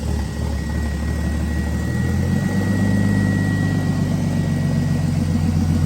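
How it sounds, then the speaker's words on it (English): A turbocharged BMW Z3 with a dual ball bearing billet-wheel turbo runs steadily, its low engine drone joined by a thin, sustained turbo whine that holds throughout without talk. "Damn, this turbo is just spooling."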